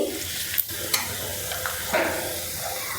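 Chicken pieces for pickle frying in a pan, a continuous close sizzle and hiss with a few soft clinks and scrapes of a spatula.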